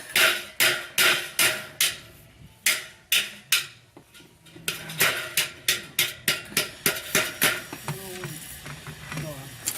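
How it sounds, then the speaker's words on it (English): A hammer drives nails into house skirting, delivering about twenty sharp, close metallic strikes in quick uneven bursts with short pauses between them, in a quiet room. "I'm putting the nail where it's lapped over."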